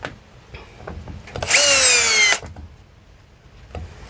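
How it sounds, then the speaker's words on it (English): A power drill with a Phillips head bit drives a screw into wood in one loud burst of a little under a second, its motor pitch sliding downward. Faint handling clicks and knocks come before and after. "Use the Phillips head to pre-drill"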